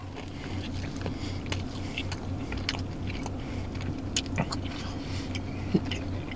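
Quiet, close chewing of a bacon, egg and cheese sandwich with two soft fried eggs, with a few soft crunchy bites popping out of a low, steady background.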